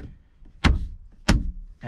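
Car door trim panel pressed back onto the door, with its retaining clips snapping into place during reassembly after an electric window repair. Two sharp, close knocks land about half a second apart, each trailing off into a short rattle.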